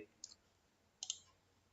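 Computer mouse clicking the install button during PrestaShop module setup: two faint, sharp clicks, one single and one a quick double, in a quiet room.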